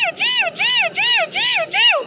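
A voice imitates a myna's call, five quick rising-falling whistled chirps in a steady rhythm, close and clear.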